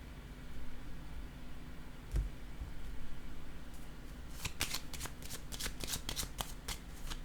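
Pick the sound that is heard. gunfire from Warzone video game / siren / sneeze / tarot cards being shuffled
tarot cards being shuffled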